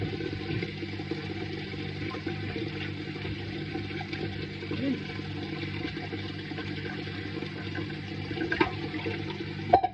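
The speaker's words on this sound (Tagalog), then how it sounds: "Tanggalin natin yung tubig." Steady rushing and splashing of water draining from freshly washed purslane greens, continuous and fairly loud, with a small clatter near the end.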